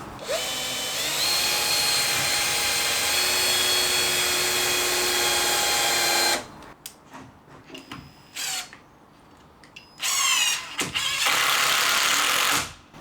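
A power drill drives screws into the timber wall frame of a prefabricated garden room, one long loud whirring run, then short bursts and a final drive, close by with light site noise between.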